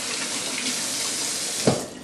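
Kitchen tap running steadily while hands are washed, a close, continuous splash into the sink with a brief clunk near the end.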